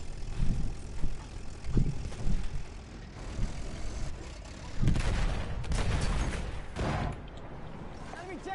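Bursts of rapid gunfire from a PS4 video game come in several uneven volleys, mostly mid-distance, over a low engine-like drone; no speech is heard.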